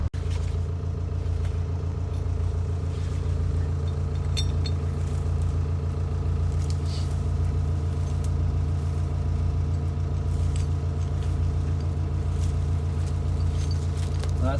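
A vehicle climbs a steep forest hill on an old skid trail, its engine holding a steady low rumbling drone with a regular pulsing beat, near and continuous, with faint rattles over it.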